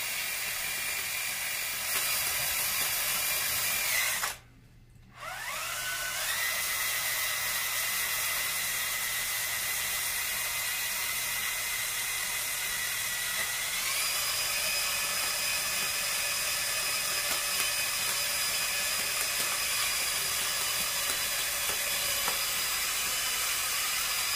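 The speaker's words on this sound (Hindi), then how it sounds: "बड़ा ड्रिल जो है अगर आपके पास है" A power drill winds kite string onto a charkhi reel, a steady whirring motor whine that runs continuously, stops briefly, then resumes and rises in pitch partway through.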